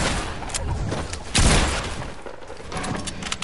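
A pump shotgun fires in a video game, a loud blast landing midway through amid a dense, noisy barrage of game combat sounds.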